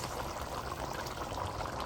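Water pours in a steady, soft stream into a pot of braising Cuban beef, a quiet continuous trickle heard close up with no voices.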